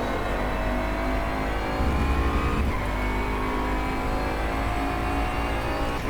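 Bentley Continental GT3 race car in the rFactor 2 racing sim, its engine droning steadily at high revs through a fast complex of corners, with a brief louder surge midway and no talk.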